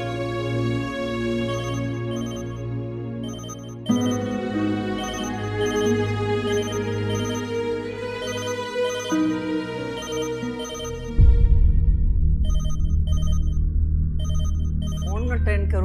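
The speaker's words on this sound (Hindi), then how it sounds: "जाओ देखो किसका फोन है।" A telephone ringtone in a Pakistani television drama household scene repeats as a bright, tonal pattern, pausing briefly between rings, with a low background hum and a louder layer entering near the end.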